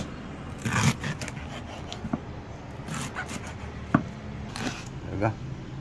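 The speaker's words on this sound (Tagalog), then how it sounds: "Chop na yung pipino guys" A knife chops cucumber on a cutting board for a jackfruit, coconut and vegetable salad, with a few sparse, sharp thuds spaced seconds apart beside soft scraping, while a person talks nearby.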